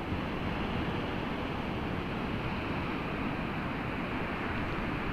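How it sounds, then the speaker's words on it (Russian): Sea waves wash in a steady, even roar of broadband surf noise, continuous and moderately faint, with no distinct breaks or voices. "Это море."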